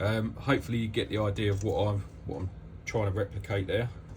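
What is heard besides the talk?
No everyday noise stands out behind the speech.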